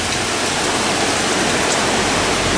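Heavy rain during Hurricane Laura, a steady dense roar of rainfall that stays loud and unbroken throughout, with no voices.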